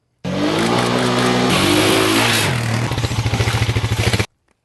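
A 2012 Honda FourTrax Foreman 4x4 ATV engine revs steadily up and down close by on an off-road course, then settles into a rough pulsing idle before cutting off.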